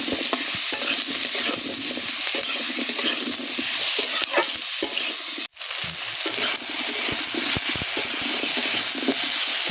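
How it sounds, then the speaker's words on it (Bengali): Onion, potato and tomato fry in a wok (kadai), with a constant close sizzle under repeated scraping stirs and clatter, plus one brief drop-out midway. "কড়াইতে এইভাবে ভালো করে নেড়ে নেবো এর ওপর আলু আর টমেটোটা দিয়ে দেবো"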